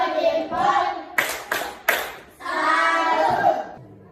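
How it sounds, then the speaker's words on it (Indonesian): Children chant a rhythmic group clapping cheer, the tepuk salut, for a classroom group. Three sharp, evenly spaced claps fall between bursts of sung chanting. "Mari kita tepuk salut untuk kelompok 3."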